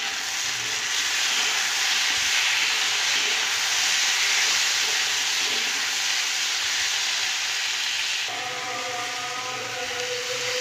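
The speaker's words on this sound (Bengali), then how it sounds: "এবার আমি এতে দিয়ে দেব টমেটো কুচিটা।" Chopped tomatoes hit a pan of lightly browned onions and sizzle with a loud, steady hiss that lasts throughout, easing slightly toward the end.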